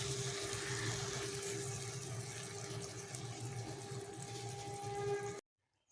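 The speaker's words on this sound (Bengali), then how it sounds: "এবার আরেকটু জল দেব।" Water pours steadily into a cooking pot of khichdi with spices, a continuous close rushing that runs for about five seconds, then stops abruptly into silence.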